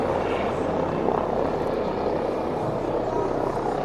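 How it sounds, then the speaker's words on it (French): A helicopter lifts off and departs near a castle, its steady, dense rotor and engine roar filling the whole stretch at constant loudness, fairly close. "là vous avez l'hélico qui repart"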